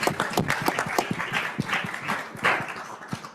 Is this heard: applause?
yes